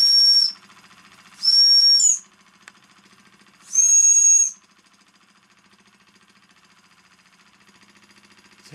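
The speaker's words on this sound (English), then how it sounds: "nice looking bell style whistles" Three loud, shrill hoots sound from the bell style whistle on a Wilesco D4 toy steam engine fired by a meths burner, each lasting under a second, with a soft steady chuffing hiss between and after them.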